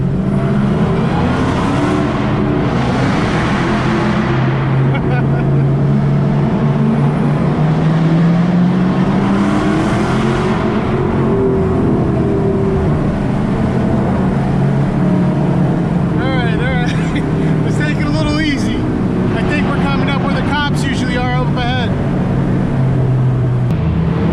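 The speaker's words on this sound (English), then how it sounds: "that supercharger whine and exhaust sounds awesome on here" A supercharged Dodge Hellcat engine pulls hard with a steady rising supercharger whine and rumbling exhaust, then crackles and pops as it eases off.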